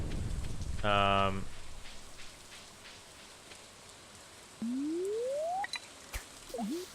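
Steady soft rain patter from Stardew Valley fills the background, a constant hiss-like wash with a short tonal chime, a rising synth sweep and a few clicks of game sounds over it.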